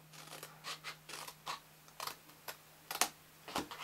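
Scissors cut through card for a tealight box in a run of short, crisp snips and scrapes, close and fairly quiet, alone without any talking.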